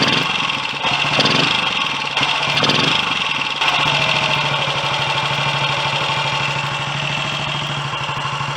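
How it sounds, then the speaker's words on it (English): A Royal Enfield Clipper 250 unit-construction motorcycle engine idling to warm up, a steady close mechanical putter that settles into an even rhythmic idle after a rougher first few seconds. "Meanwhile, I'll keep it running to warm up."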